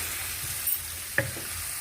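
Ingredients sautéing in a pan for a lentil-ball masala curry, a steady quiet sizzle with one small clink of a utensil partway through.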